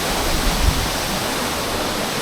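Fairlawn waterfall in Upcot, Sri Lanka, pours in a constant close hiss and rumble of water, loud and even, with a brief low thump early on and no talking.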